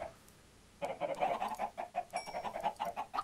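Minecraft chickens cluck in a rapid, rhythmic run of short clucks that begins abruptly after a quiet start and continues close and clear to the end.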